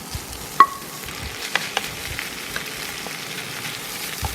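Chili paste frying in a pan for tawa pulao, a soft sizzle under several sharp scraping and tossing clicks from the utensil, one louder knock early on.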